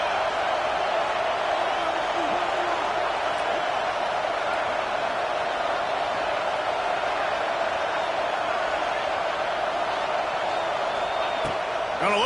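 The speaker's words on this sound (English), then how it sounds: "3rd down play in the red zone, and this crowd is at fever pitch" A stadium crowd roaring in the NCAA 26 college football video game, a dense, steady wall of cheering noise at high intensity throughout, loud and unbroken, with a commentator's voice faintly mixed in.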